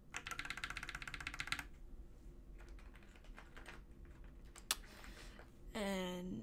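Rapid clacky typing on a Drop mechanical keyboard fitted with lubed Holy Panda switches, dense and close at first, then sparser keystrokes with a brief sharp click and a rising whine near the end.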